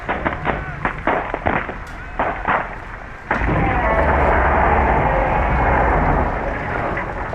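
Gunfire erupts in the video game Call of the Sea, a burst of sharp shots at first followed by a sustained, loud roaring barrage.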